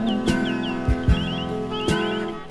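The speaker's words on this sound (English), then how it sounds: "I heard a soft low hiss and a chirp like a bird from the synthesizers and the amplifiers in the back room" Synthesizers in a back room give a repeated, bird-like electronic chirp made of short swooping tweets, heard over a sustained musical drone with a few low thumps, close and fairly loud.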